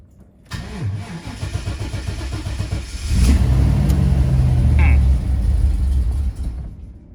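Van engine cranking and struggling to start, with a starter whirring before it catches into a rough, rising rumble. It is loud and close, with a voice speaking over it.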